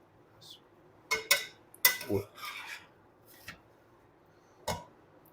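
A spoon scrapes and clanks against a pot while cooked biryani is mixed, with several sharp metallic knocks and rasping scrapes spaced irregularly, fairly close, between quiet gaps.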